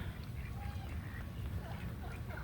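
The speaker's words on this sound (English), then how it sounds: "Ooh, dang, ducks!" Ducks quacking on a rainy weekend: faint, scattered calls over a steady backdrop of rain or wind noise, somewhat distant.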